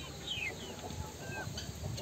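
Chickens and chicks of a giant breed crossed with carijó hens clucking and peeping close by during a late-afternoon feeding, soft scattered calls over low background noise.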